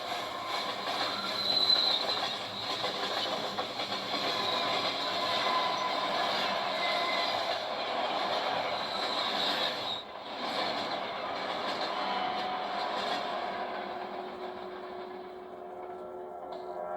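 A train pulls away in the Van Helsing video game, a steady rolling rumble with wheel squeal and rail noise that holds loud and continuous before thinning slightly at the end.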